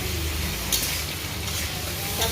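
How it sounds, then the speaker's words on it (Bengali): Duck meat fries with turmeric powder and salt in a pan, giving a loud, continuous sizzle close by with occasional stirring scrapes. "মাংস একটু লাল করে ভেজে নিচ্ছি"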